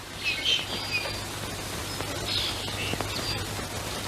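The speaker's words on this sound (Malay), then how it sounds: "Wow, burung. Oh, burung." Bird calls chirp faintly in short scattered bursts over a steady low hum and hiss, with no talking.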